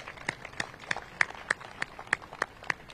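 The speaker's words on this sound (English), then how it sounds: "So let's give a round of applause for that." Hands clap in a steady, evenly spaced rhythm, about three claps per second, at a Lidl store opening in Southeast DC, with faint room noise between the sharp claps.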